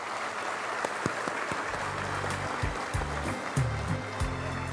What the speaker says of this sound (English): A big round of applause for the achiever